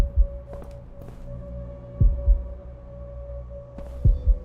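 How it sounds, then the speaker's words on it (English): Heartbeat in the video game Observer: low, paired thumping beats repeating about every two seconds over a steady electronic hum, with no talk. "Is that my heartbeat?"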